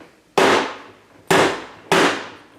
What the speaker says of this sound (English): So we take soft-faced hammer,